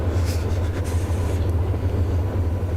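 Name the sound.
freight train in a video game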